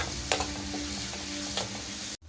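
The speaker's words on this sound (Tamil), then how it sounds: "கருவேப்பிலை வெங்காயம் போட்டுக்கலாம் பூண்டு தட்டினதை போட்டுக்கலாம் இது நல்லா வதக்கி விடலாம்" Curry leaves, onion and crushed garlic sauté in a pan for a Kerala-style home dish: a steady close sizzle with a few sharp stirring scrapes and clinks, then a brief cut near the end, with no talking.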